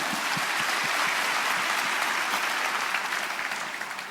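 An audience claps in a dense, steady burst of applause that tapers off slightly toward the end.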